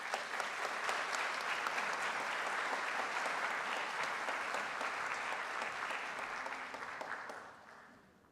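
Conference audience applauds to welcome speaker Julie Pavel, a full, even round of clapping that sustains for several seconds and then fades out.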